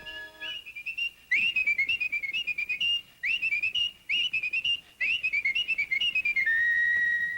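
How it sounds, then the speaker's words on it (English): Fast, bright whistling of a lively tune in quick, choppy phrases separated by brief pauses, ending on a long held note. "Only fast whistlers could whistle while they worked."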